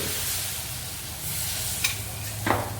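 Eggless vegetable omelette batter cooking in a lightly oiled pan, a quiet steady sizzle with a couple of brief utensil scrapes near the end, no talking.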